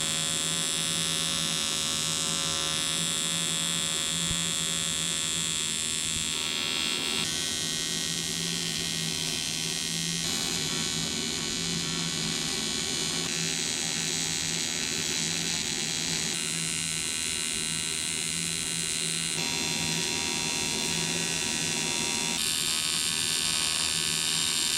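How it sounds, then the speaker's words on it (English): MIG-style welding on an engine oil pan baffle, a steady electric buzzing hum with crackle running continuously at close range for the whole stretch, with brief pauses in intensity and no talk. "let's go ahead and pop the baffle off and get that all welded up"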